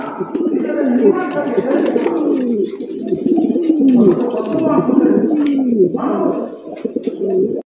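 Pigeons kept for sale, including a male and two females, coo close by in a continuous stream of repeated, rolling low calls that overlap one another.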